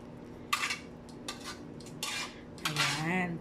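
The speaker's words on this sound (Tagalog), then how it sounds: "magpe-plating po ng mabilisan si Kasuki" Cutlery clinks and scrapes against plates as a lunch of chicken inasal and vegetables is quickly plated, with a few short, fairly quiet bursts of metal on dishware and no talking.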